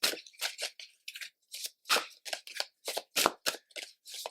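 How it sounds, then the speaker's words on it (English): A deck of Manara Erotic Tarot cards being shuffled, with about a dozen crisp riffling bursts in quick succession, close and clear with brief gaps between them. "Just gonna go ahead and shuffle real quick. We're gonna be using Manara Erotic Tarot."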